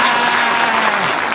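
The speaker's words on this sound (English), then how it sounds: "He has to prompt them to clap." Audience applause at a political speech after the crowd is prompted to clap, a steady dense wash of clapping that fills the whole moment, fairly loud and without talk.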